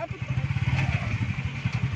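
A motorcycle engine runs close by with a steady, pulsing low putter through the whole clip, with people talking over it.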